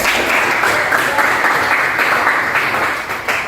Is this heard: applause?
yes